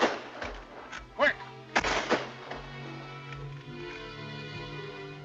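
Gunshots ring out in a 1933 film: several sharp, booming reports, with two close together early and a loud pair near the middle, and a low musical score holding underneath.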